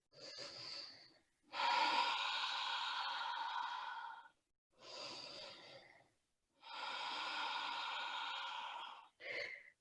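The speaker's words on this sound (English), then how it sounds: "Deep breathing." Deep, slow breathing during Ashtanga yoga practice: long drawn inhales and exhales in four separate breaths with short pauses between, close and clear, with no talk.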